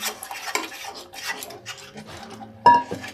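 Sarson saag, a mustard greens dish, being stirred in a cooking pot: steady scraping and rasping of a spoon against the metal, with soft wet rubbing strokes and one sharper clink of utensil on pot near the end.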